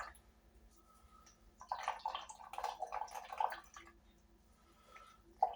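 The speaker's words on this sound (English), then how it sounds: "you'd be amazed how much water, starch, actually comes out for a small potato" Water and starch dripping and trickling from grated potato being twisted and squeezed in a cloth for rosti, a faint cluster of wet drips and splashes, quiet and close.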